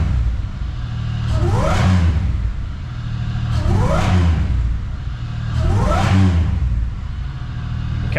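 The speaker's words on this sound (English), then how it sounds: "Kind of hear that misfire in it." A cold supercharged Pontiac 6000 wagon V6 engine revs three times in a row, each rise rough and uneven with a sputtering, misfiring, stumbling quality before dropping back to idle.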